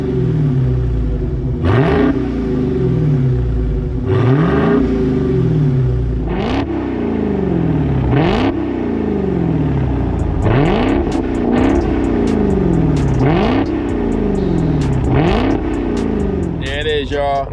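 A 2020 Dodge Hellcat Widebody with its mid muffler deleted is revved up close and loud, about eight sharp rev blips rising and falling in quick succession over a rumbling idle.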